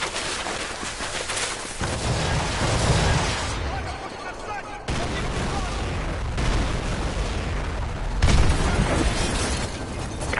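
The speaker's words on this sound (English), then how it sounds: "Those explosions are going to attract a lot of attention." Predator drone missile strikes in the Modern Warfare 2 video game, a run of heavy booming explosions with rumbling debris and crackle, loud and sustained, cutting abruptly between blasts.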